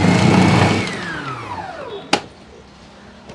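A manual push-type vegetable chopper shreds cabbage, its spinning blades whirring loudly and winding down in pitch over a couple of seconds before a single sharp click, then a quiet stretch.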